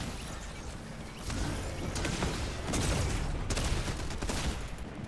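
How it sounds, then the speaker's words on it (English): A slam attack lands in a Fortnite limited-time mode amid a loud, dense flurry of impacts, crashes and gunfire-like bursts, the whole thing noisy and continuous without any talk. "Can also do a little slam attack"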